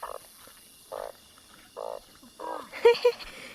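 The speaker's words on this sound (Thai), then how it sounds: "กบหรือกระปาด" Frogs croak during rain at night in rural Thailand, four short raspy calls spaced about a second apart, followed by louder, closer croaking and some splashing near the end.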